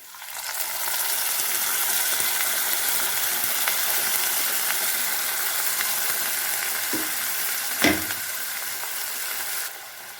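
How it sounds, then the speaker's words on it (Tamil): Steady, loud sizzling of onions frying in a pan for cauliflower gravy, with a brief scrape of stirring near the end; no talking. "வெங்காயத்தை நல்லா வணக்கிக்கலாங்க"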